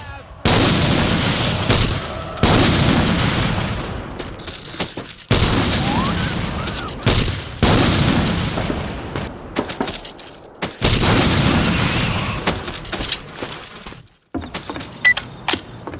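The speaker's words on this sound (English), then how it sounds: "Pipe bomb!" Loud, repeated booming blasts from a pipe bomb detonating in the Left 4 Dead 2 video game, several heavy explosions in succession with rumbling tails and gunfire-like bursts, ending in quieter sporadic hits.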